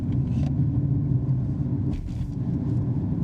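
Suzuki Fronx 2026 driving over a suspension test course in Bangladesh: a steady, loud low road and tyre rumble with brief higher rattles and bumps near the start and around the two-second mark.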